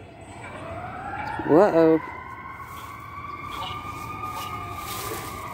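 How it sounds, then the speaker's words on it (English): A siren wails at a distance, its tone rising and holding steady, while someone nearby gives a brief startled exclamation. "You hear that siren? That was loud, wasn't it?"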